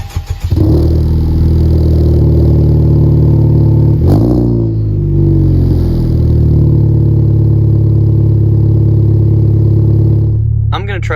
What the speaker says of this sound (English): You guys tell me if you think the startup sounds any different than it did before.